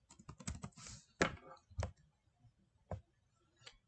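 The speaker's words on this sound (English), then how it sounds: "you go over here to text and you type in your text" Short bursts of computer keyboard typing, clustered clicks near and fairly clear, with quiet gaps between groups of keystrokes while entering text for a gumball machine label.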